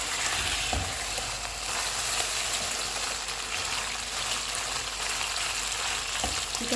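Chicken frying in hot oil for fajita pasta, a steady moderate sizzle with soft bubbling, a couple of light utensil knocks, close and without talk.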